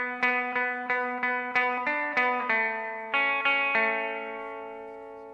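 Electric guitar playing a phrase: a run of about a dozen bright picked notes on the second and third strings, ringing with chorus and echo, the last note decaying alone.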